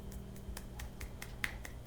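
A single man claps his hands in a quick, even run of soft, faint claps set against a quiet, low background hum.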